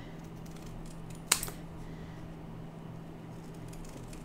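A single quick snip of scissors cutting a paper template for a folded-page mini scrapbook album, close and crisp against a steady low hum.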